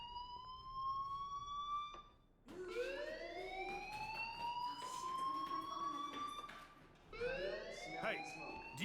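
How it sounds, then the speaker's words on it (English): A rising and falling electronic fire alarm wails again and again in Life is Strange, loud and continuous, with one short break partway through. "do you hear that fire alarm?"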